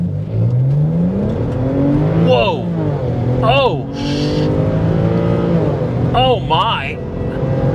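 A 2008 BMW 335i E90, modded and tuned, revs hard and loud in sport mode, pitch climbing and dropping through repeated surges, with tire squeal and a person briefly exclaiming over it.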